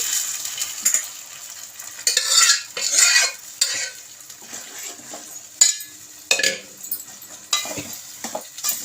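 Gongura leaves being stirred into chicken curry in a pan, with repeated scraping strokes of a metal spoon against the pot over a soft sizzle, arriving in uneven bursts close by.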